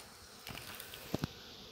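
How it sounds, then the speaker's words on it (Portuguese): Jataí stingless bees swarm around a wooden hive box outdoors, a faint, thin buzzing broken by a few soft ticks and taps as insects pass close by. "E agora, uma movimentação bem grande aqui de Jataís"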